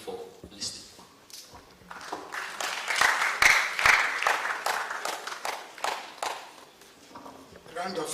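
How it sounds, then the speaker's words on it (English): An audience at a leadership and empowerment event claps, scattered at first, then building into fuller applause with a few sharp individual claps near the front, while a voice talks faintly underneath. "Round of applause again to our innovator."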